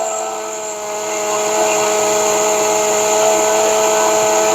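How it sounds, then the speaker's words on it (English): A food processor grinds a peach dog treat mixture, giving a loud, steady whirring motor drone with a high-pitched whine that builds slightly and holds evenly throughout, with no talking. "Grind it up just a little bit more."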